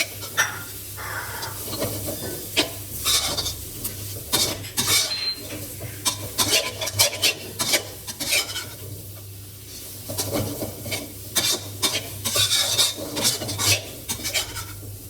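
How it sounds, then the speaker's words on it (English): Noodles being stirred and tossed in a pan with cilantro and kaffir lime leaves for Thai tom yum noodles, with steady scraping and clinking of utensil against cookware under a low hum. "Stir and toss into the mixture, but carefully, so you don't break or chop up the noodles."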